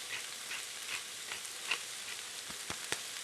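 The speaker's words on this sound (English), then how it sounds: "I'm going to saute this down until it's just soft, just cooked" Vegetables seasoned with salt and black pepper sauté in a pot for chicken soup, a faint steady sizzle with a few soft utensil taps and knocks near the end, no voices.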